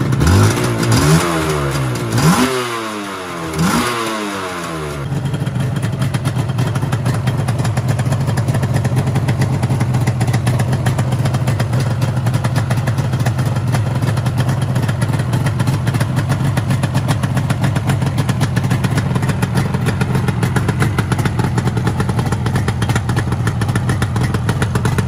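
A two-stroke twin-cylinder motorcycle engine revs sharply in a few quick bursts, then settles into a steady, buzzing idle that drones on, close and loud.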